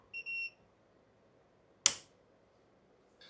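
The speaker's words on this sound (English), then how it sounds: "we get the FarDriver beep" A FarDriver motor controller on a Razor electric bike conversion with an MY1020 brushless motor gives a short two-part power-on beep: two clear electronic tones at the start, then a sharp click and quiet.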